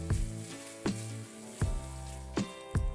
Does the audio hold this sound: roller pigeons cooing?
no